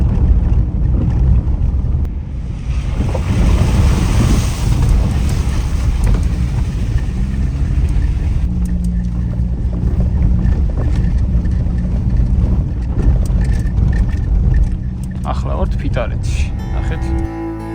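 A Toyota Tacoma pickup sets off along a road toward the Khrami river valley, its engine rumbling steadily and loudly with heavy wind buffeting throughout, while people talk over it.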